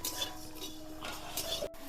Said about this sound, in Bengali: এবার তেল ছাড়া শুকনো কড়াইতে ভেজে নিতে হবে